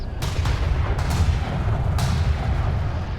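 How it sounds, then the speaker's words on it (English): Railgun fire in the real-time strategy game Homeworld: Deserts of Kharak: several sharp, cracking shots land at uneven intervals over a steady, heavy low rumble of battle. "Enemy railgun firing on friendlies."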